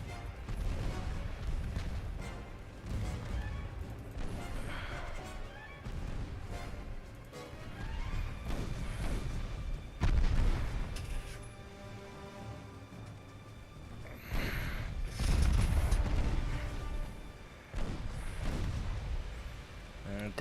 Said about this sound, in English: Detonated torpedo